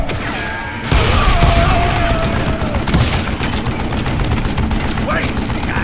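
In the Western shooter game Call of Juarez Gunslinger, loud gunfire breaks out suddenly in rapid, overlapping bursts of shots and impacts, with voices heard in the mix.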